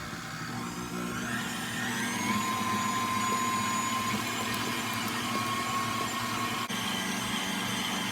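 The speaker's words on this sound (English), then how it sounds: "So we're going to mix all these ingredients together on medium speed until it's well combined." A stand mixer fitted with a dough hook works honey butter yeast roll dough at medium speed, its motor humming in a steady, close, continuous whir with no talking.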